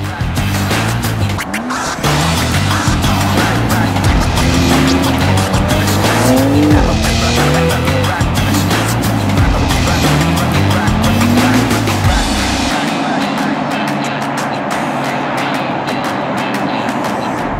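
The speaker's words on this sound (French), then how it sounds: "On est sur la route avec le BMW" A 2021 BMW X4 M Competition SUV accelerates hard on the road, its engine roaring loud and close with rising and falling pitch as it shifts, and the roar drops off sharply near the end.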